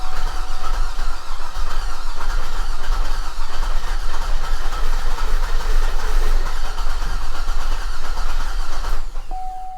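A flooded Cadillac SRX engine runs steadily at close range, with a continuous rough drone and a faint rattle from underneath, and no one speaks.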